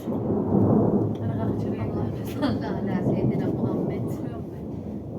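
Deep, rolling thunder from a brewing storm rumbles on and on, broad and heavy, with a few faint sharper sounds scattered through it and no clear talk.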